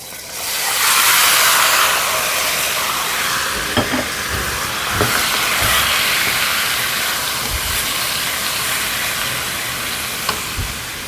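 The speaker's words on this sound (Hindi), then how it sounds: "इसके बाद साथ ही हम डाल देंगे इसमें अपना चिकन" Chicken sautés in a hot pan for fajitas, giving a loud, continuous close sizzle and hiss that lasts throughout, with occasional light knocks of stirring.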